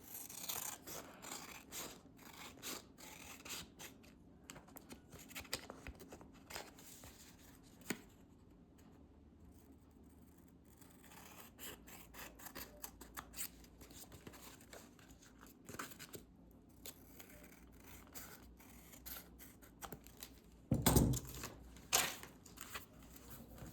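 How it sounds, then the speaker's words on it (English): Very sharp scissors snip through craft paper in quick repeated cuts with crisp rustling and crinkling between, close and fairly quiet, with a louder burst of handling near the end. "These are my husband's scissors, and they're so much nicer than mine"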